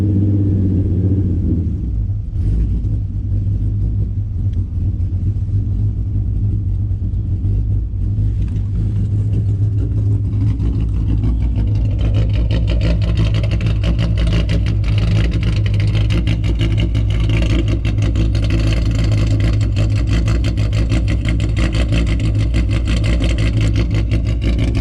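A truck engine fitted with an idle chop mod runs loud and close, rumbling unevenly at first, then revving up into a steady, choppy, lumpy drone that holds to the end.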